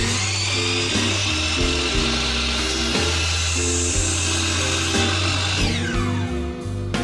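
A power saw cuts a wooden board for a small keepsake box along a marked line, with a loud, continuous whine that keeps going throughout, close up and with no talking.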